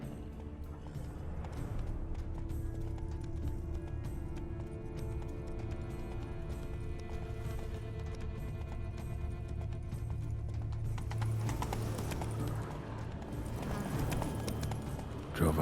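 Hooves of a horse clopping along in The Witcher 3: Blood and Wine, a muted rhythmic patter beneath sustained game music and ambience, with a faint whinny and a sharper rush of movement toward the end.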